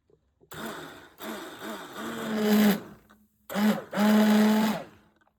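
A hand blender purees pumpkin cream soup in a home kitchen, whirring in two loud bursts with brief pauses and pitch rising as it runs, then switched off.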